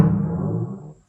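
One deep timpani stroke, panned left, struck firmly and left to ring, fading out within about a second.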